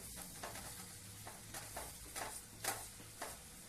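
Sprouted beans (birdya) fry in a pan while being stirred. A soft, continuous sizzle is broken by light scraping stir strokes every half second or so, fairly faint and close, with no voices.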